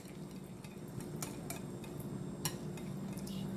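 Quiet, irregular clinks and taps of a whisk against a bowl while cream cheese and mayonnaise are mixed, with a faint low hum underneath throughout.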